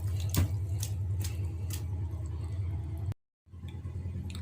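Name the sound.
washing banana stem under running water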